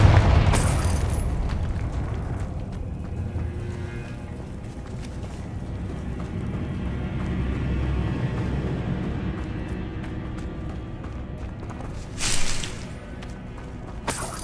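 A fiery Confringo spell blast from the Hogwarts Legacy video game bursts loudly near the start, with a second sharp explosion late on over a steady rumbling game soundscape.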